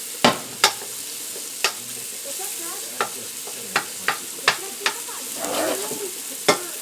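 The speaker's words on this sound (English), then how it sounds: "I'm going to add these mushrooms. These are cremini mushrooms, sliced up cremini mushrooms." Sliced cremini mushrooms frying in butter, a bright sizzle beneath a string of sharp spoon-on-pan knocks and scrapes as they are stirred, close and fairly loud, no talking.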